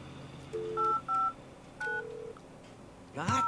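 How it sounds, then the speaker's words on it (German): Telephone dialing a residence in The Sims 3: a series of short, clear touch-tone beeps in quick succession, followed by a brief burst of garbled phone noise at the end. "Residenz anrufen, Freddy Osborne."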